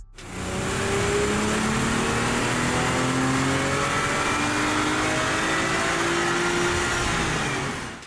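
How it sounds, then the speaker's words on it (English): A manual Toyota A90 Supra strapped to a mainline hub dyno for a baseline run, its engine droning loud and steady for about seven seconds with rising tones, then cutting off abruptly at the end. "First up, a baseline run on the mainline hub dyno."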